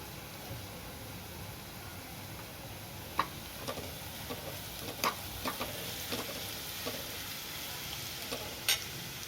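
Onion and green chili frying in a pan with a soft, steady sizzle, broken by a few sharp spoon taps and scrapes as turmeric is stirred in.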